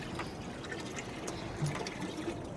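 Water is poured into a live squid bait tank aboard a fishing boat, a soft, steady trickle and splash that stays low and continuous throughout.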